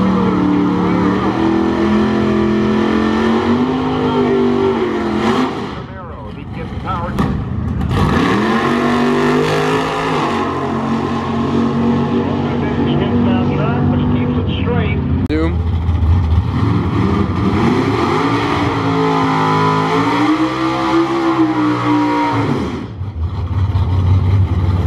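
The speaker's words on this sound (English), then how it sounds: "look at that red Camaro. That thing looks like a freaking monster" A red Chevrolet Camaro engine rumbles loud and close, rising in several heavy revs over a deep idle, while people talk over it.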